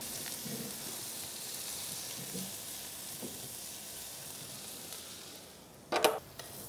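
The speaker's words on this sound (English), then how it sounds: "So we'll take this side and put it face down on that grill grate." Avocado halves set face down on a hot grill grate, giving a steady hissing sizzle throughout, moderately faint, with a brief louder clatter near the end.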